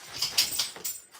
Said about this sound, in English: Can I hear my dog?